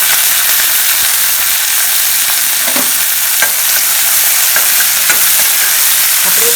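Chopped pirandai (adamant creeper) sautéing in sesame oil in a kadai, a loud, dense, steady sizzle close up with faint scraping stir strokes.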